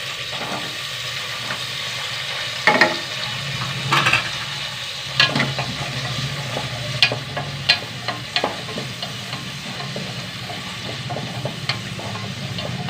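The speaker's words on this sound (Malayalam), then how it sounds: "ചെറിയുള്ളി പത്തിരുപത് ചെറിയുള്ളി ഉണ്ട് അത് ഇട്ട് കൊടുക്കട്ടെ കേട്ടോ" Shallots sizzle in hot oil while a spoon stirs them, a steady frying hiss punctuated by about a dozen sharp scraping clinks against the pan at an irregular pace.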